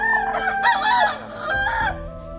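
A fighting rooster crows loudly and close by in a rural forest village, one long, wavering cock-a-doodle-doo followed by a second strained call, heard alone without talk.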